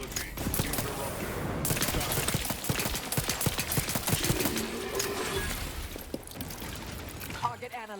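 Dense, continuous gunfire in The Outer Worlds 2, rapid overlapping shots hammering nonstop with a heavy low rumble, close and loud throughout, with game voice lines mixed in.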